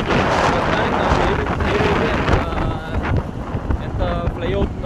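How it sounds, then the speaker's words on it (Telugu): Strong wind buffets the microphone while riding a motorbike through Somasundarapalem village, a loud continuous rumbling roar with gusty surges, and a person talks over it. "ఎంత ఫ్లై అవుతుందో చూడండి, అంత గాలి ఉంటుంది ఇక్కడ"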